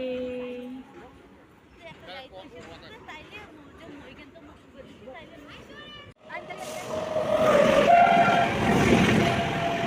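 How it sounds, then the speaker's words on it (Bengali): A goods train passes through Dhupguri station on a cold, foggy day, its rumble and clatter rising loud and near in the second half, with a horn-like tone and a person talking before it. "মাল ট্রেনটা এখন চলে যাচ্ছে"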